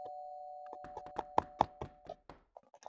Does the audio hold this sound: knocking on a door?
yes